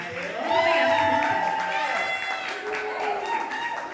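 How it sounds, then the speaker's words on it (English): An audience at a live show applauds and cheers as a poet walks to the stage, a sustained crowd roar with clapping while a host speaks over it. "So clap her all the way up to the stage."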